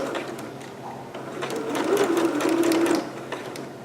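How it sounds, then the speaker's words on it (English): A sewing machine stitches a seam on a green performance gown, its rapid mechanical whirr running steadily and swelling slightly louder midway before easing off near the end; no one talks. "now I'm about to reach my last pin, which means that that is my dot and where I need to stop sewing"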